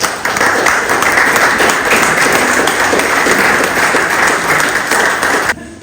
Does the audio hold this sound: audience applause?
yes